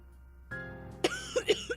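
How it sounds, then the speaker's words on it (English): A woman in a horror visual novel game coughs heavily, several short, close, muffled hacks in quick succession after a brief throat-clearing rasp. "Becca starts coughing heavily. Her hand hastily goes to her mouth to stifle the sounds."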